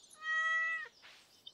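A cat meows once, close and clear, in the Stardew Valley farming game. A long tonal call fades into soft game ambience, and there is no talk over it.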